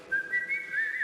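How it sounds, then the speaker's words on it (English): A person whistles a short wavering tune, clear and fairly close, alone without any talk. "I'm concentrating on whistling."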